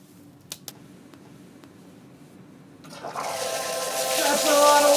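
A laboratory safety shower releases a sudden, heavy rush of water partway through, building into a loud, sustained downpour after a few faint clicks and a quiet room.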